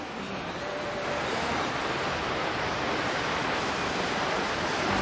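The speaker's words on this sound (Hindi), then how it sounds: "Hidden waterfall." A hidden waterfall in a Himachal valley near Gunehar and Bir Billing makes a loud, constant rushing roar of falling water, a steady broadband wash with no voices.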